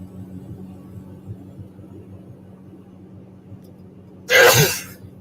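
A single sharp sneeze bursts out near the end after a stretch of low engine hum, loud and close against the quiet background.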